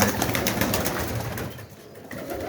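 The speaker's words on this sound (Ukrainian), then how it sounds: "Цей голуб." Pigeons of an old-breed line, cheeked and whiskered, coo together in a loft, a dense continuous murmur of nearby birds at moderate volume with no talk.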